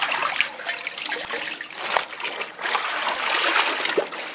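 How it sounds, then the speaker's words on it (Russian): Hand-washed laundry being wrung out over a bucket, water trickling and splashing back in a steady broken stream, close and fairly loud, with no talk. "Ополоснули и чуть-чуть отжали обратно в ведро."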